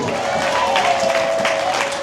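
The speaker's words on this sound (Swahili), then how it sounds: "Mshangilie Bwana kwa makofi na ngelele" A church congregation claps and cheers in a continuous, reverberant wash of applause, with a sustained voice ringing out above the crowd.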